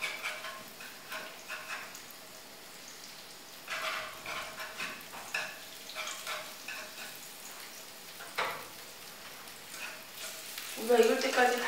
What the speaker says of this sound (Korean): 고기를 볶아주세요.